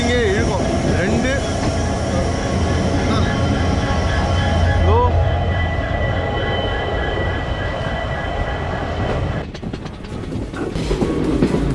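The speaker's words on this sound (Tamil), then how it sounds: "ட்ரெயின் வெயிட் பண்ணிக்கிட்டு இருக்கு." A train hauled by two engines rolls along the line between Chennai and Goa, a loud, steady rumble of wheels and carriages with squealing and clattering, heard close and continuous throughout.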